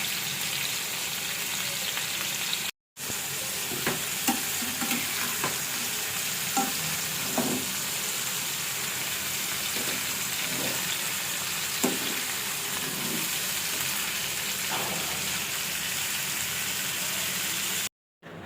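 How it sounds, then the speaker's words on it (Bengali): Vegetables cooking Chinese style fry lightly in a pan, a steady close sizzle under repeated scraping stirs at an irregular pace, with two brief silent breaks. "সবজিটাকে কিছুক্ষণ হালকা ভেজে নিব"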